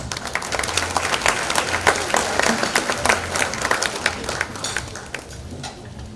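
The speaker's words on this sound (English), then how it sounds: "A resounding round of applause" A gala audience gives a sustained round of applause, dense clapping from many hands filling the room at full strength before gradually thinning toward the end.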